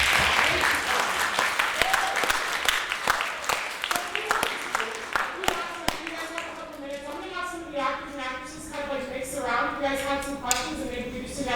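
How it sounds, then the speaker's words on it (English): An audience at a high school drama production claps in a dense, loud burst of applause that tapers off after several seconds, with voices sounding through it. "I want to give you guys a big round of applause for that"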